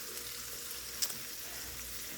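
Spicy mustard chicken sizzles steadily in a pan on the stove, a constant bright hiss with a small pop partway through and no talking.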